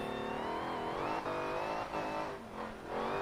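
V8 Odyssey racing on the Nordschleife in Forza Motorsport 7: a loud, steady engine drone with rising and falling revs and harmonic whine, heard alone without talk.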